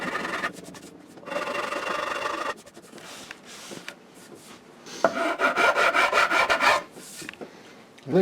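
A Shinto rasp filing the wood of a guitar body in rough scraping strokes, close and fairly loud, in bursts separated by short pauses.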